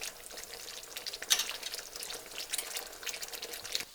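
Coconut milk for a Thai prawn curry simmering in a pot over medium heat, a steady close bubbling and crackling hiss with a few sharper pops, no talk.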